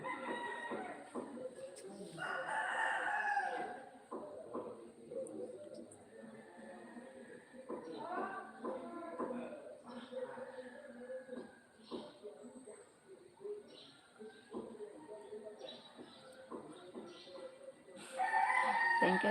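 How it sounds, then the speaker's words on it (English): Several roosters crow repeatedly at moderate distance, their calls overlapping in an outdoor morning setting, with occasional clucking from other fowl between crows. "And many roosters are loud, too loud."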